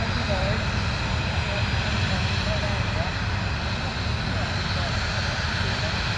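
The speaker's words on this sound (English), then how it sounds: "Gorgeous rotation and lovely departure as well." A jet airliner roars steadily on its departure climb from London Luton Airport, a broad, continuous engine rumble that stays loud throughout, with voices faintly underneath.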